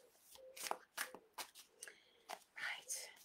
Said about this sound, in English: Now I'm just gonna shuffle until I feel the angels nudge me to stop.